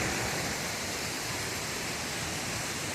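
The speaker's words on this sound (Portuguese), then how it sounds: "Essa cachoeira é um espetáculo." A waterfall in southern Minas Gerais, Brazil, pours as a loud, steady broadband roar that fills the whole stretch without a break, with no voices heard.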